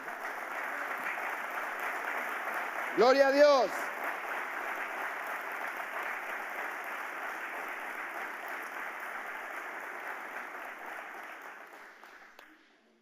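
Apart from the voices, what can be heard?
loud applause in church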